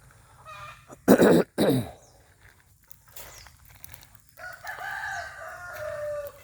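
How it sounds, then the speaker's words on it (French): Two loud bursts of rooster crowing close by, followed by softer, more distant crowing calls over a low steady background rumble. "Les coqs sont actifs."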